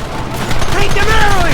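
Loud, dense gunfire during a Red Dead Redemption shootout, with overlapping shots and ricochet whines over constant battle noise. Shouted voices mix in.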